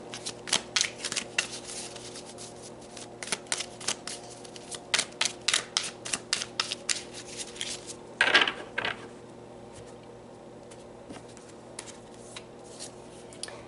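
Tarot cards are shuffled and drawn by hand, a steady run of crisp riffling flicks and soft slaps close by, with a sharper card snap midway and quiet gaps between bursts.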